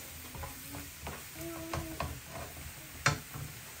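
Food cooking in a pan in a home kitchen, a quiet sizzle with scattered ticks and utensil clicks, one sharper clatter near the end, no talking.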